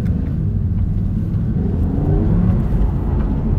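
An Audi R8 GT sports car on a track holds full throttle as it starts to rotate into a slide, its engine a loud, steady, close roar that rises slightly in intensity, with no voices.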